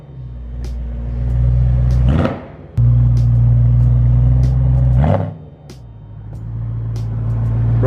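A BMW E92 M3 fitted with a loud aftermarket exhaust revs twice, each blip rising sharply then falling back to a deep, rumbling idle, close and loud with no talking.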